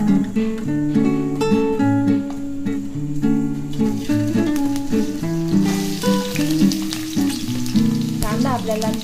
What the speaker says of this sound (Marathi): तेल छान गरम झाले की आपल्याला यामध्ये कांदा घालून घ्यायचा आहे।